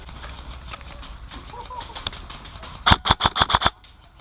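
A rapid burst of about six sharp, close BB gun shots rings out during an airsoft milsim game in a forest, following a quieter stretch of outdoor background noise.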